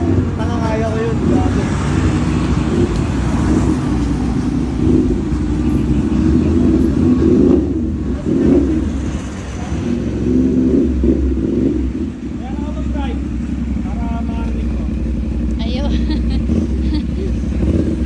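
CF Moto 450NK motorcycle fitted with an Austin Racing slip-on exhaust, a loud steady engine drone with rising revs, heard close along with road noise, with a voice talking over it.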